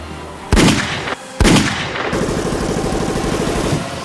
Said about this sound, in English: 2 clean headshots, explosively loud over the continuing rattle of the M16s